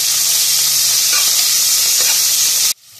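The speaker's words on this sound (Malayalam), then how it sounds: "ഇത് ഗോൾഡീഷ് ബ്രൗൺ എത്തുന്ന വരെ നമുക്കിത് ജസ്റ്റ് ഒന്ന് വാട്ടിയെടുക്കാം" Sliced onions sauté in hot oil in a pan for vegetable biryani, giving a loud continuous sizzle with a few faint stirring scrapes before it cuts off sharply near the end.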